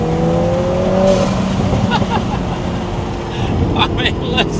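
A 2025 Lotus Emira i4 turbocharged sports car engine revs and roars nearby, with rising and falling pitch, a few sharp bursts near the end, and a voice briefly over it.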